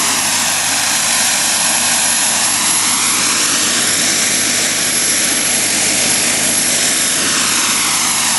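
A loud, steady high-pitched turbine whine with a broad roaring hiss from a model turbine engine idling at 135,000 RPM, unchanging throughout.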